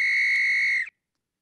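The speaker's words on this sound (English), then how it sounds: "So this is a whistle" A single artificial alarm whistle, one sustained bright high tone lasting under a second, loud and clean, then cut off into silence.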